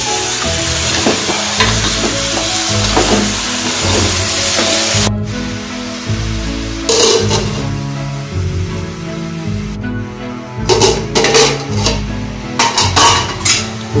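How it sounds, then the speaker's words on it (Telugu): Goat head meat sizzles loudly in a hot pan with ginger, fried village style while being stirred, a dense continuous crackle broken by scraping stir strokes and a few brief shifts in intensity. "శుభ్రంగా కడిగి పెట్టుకున్న తలకాయ కూరను వేసి బాగా కలుపుకోవాలి"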